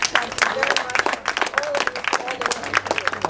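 Audience applause for event organizers at a local Democratic council campaign gathering in Bound Brook, moderate clapping from a crowd mixed with voices and chatter throughout.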